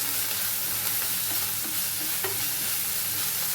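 Chopped onion, garlic, ginger and green chilli sizzle steadily in hot oil for a moonga dal tadka, a loud continuous frying hiss with light stirring scrapes, no talking.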